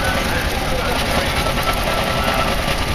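Steam engines running on a road at a steam rally, a steady dense mechanical rumble and hiss filling the background, continuous and fairly loud, with someone talking over it.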